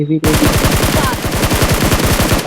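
Rapid automatic gunfire rattles in a loud continuous burst lasting a couple of seconds, each shot sharp and evenly spaced.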